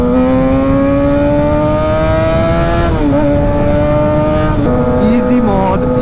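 Kawasaki Ninja ZX6R 636 sport motorcycle revving loudly and steadily to warm its tyres, engine pitch climbing gradually with brief dips around the middle and near the end.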